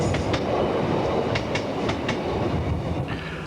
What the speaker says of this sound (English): a train from Peterborough